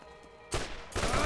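Dense bursts of gunfire erupt in Borderlands, two loud, sustained volleys of rapid shots following a quieter lead-in.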